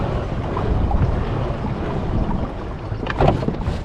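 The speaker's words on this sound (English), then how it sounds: "The prop really bites the water." A pedal-drive fishing kayak, a 3 Waters Big Fish 103, pushes its propeller through open water, giving a steady churning wash with wind noise across the microphone and a brief splashy burst near the end.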